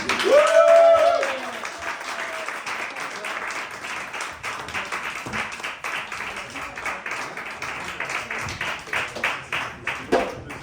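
An audience at a Fermaculture gathering in Bossière applauds a performer's entrance, a crowd of hands clapping steadily for several seconds after a brief tonal sound at the start, the clapping thinning into scattered claps toward the end.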